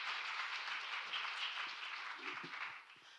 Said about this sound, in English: Round of applause for the panelists.